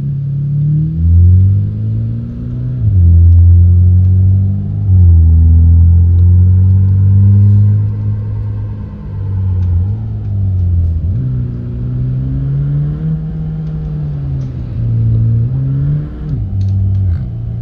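A car engine hums and revs loudly while driving through curves near Caxias do Sul, its pitch rising and falling repeatedly as it accelerates and eases off, with no talk.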